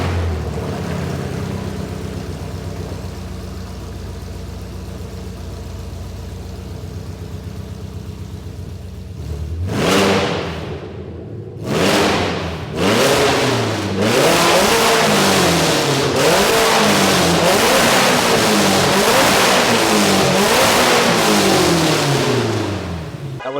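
A Ford Mustang GT350 with open headers on a dyno settles from a rough idle into a series of loud, sharp revs that climb and fall repeatedly, raw and close with no talking.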